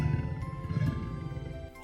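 A gorilla sound effect, heard as a continuous low, rumbling roar and growl lasting about two seconds, loud and alone.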